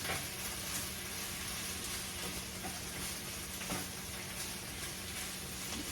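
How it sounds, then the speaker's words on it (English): Vegetables fry in oil in a skillet for pancit noodles, producing a soft, steady sizzle with light stirring throughout and no voices. "So all of this is in a skillet, making sure to get the oil well distributed throughout the pan."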